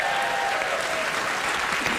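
Brief burst of studio audience applause on a comedy talk show, dense and even clapping from many people, fairly loud and continuous across two seconds, with a faint tonal sound lingering underneath.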